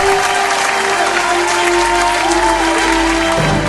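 Loud, steady applause from a studio audience rewarding a singer's score on a gospel singing show, sustained throughout with no talk over it.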